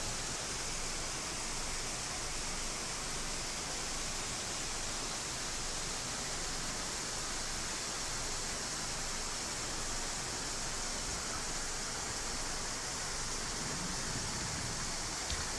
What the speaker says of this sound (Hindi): जोधपुर के मेहरानगढ़ फोर्ट के अंदर भी पानी का तेज बहाव देखने को मिला।